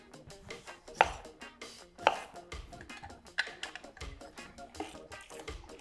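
A knife chopping through a lime on a cutting board, sharp taps at a steady rhythm, close and clear with faint kitchen clatter, no voices.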